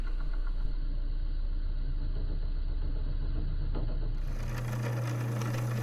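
A lathe turns an acrylic pen blank, its motor running with a steady low hum and a faint ticking whir of cutting as shavings pile up, the tone dropping and shifting near the end.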